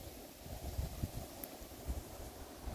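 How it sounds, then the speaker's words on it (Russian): Soft, low wind rumbles and buffets in the background at Lake Seliger, faint and steady with gentle gusts. "И вот ветер раскачивает тут все."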